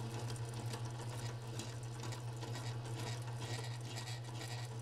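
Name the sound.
KitchenAid stand mixer whipping buttercream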